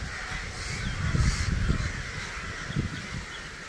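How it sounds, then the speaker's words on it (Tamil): A flock of crows caws repeatedly from a tree at evening as they gather to roost, a dense, continuous chorus of harsh calls over steady outdoor background noise, with no talking. "இதில் எல்லாம் காக்கா உண்டு."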